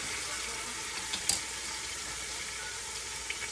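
Meat for Moroccan couscous frying in hot oil, giving a steady, broad sizzle close by with a few faint clicks and no talk.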